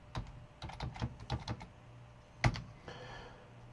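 Quick bursts of keystrokes on a computer keyboard while a terminal update command is entered on a Raspberry Pi, irregular clicks in short runs with one sharper louder key strike near the end, close and clear with no talk.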